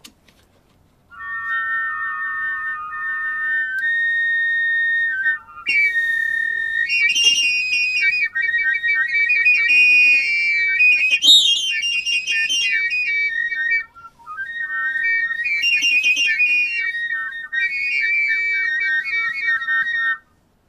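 A homemade junk wind instrument, played by sucking air through it, gives sustained reedy, whistle-like tones in melodic phrases. Two short pauses break the playing, and the notes sound clear and close with no talking.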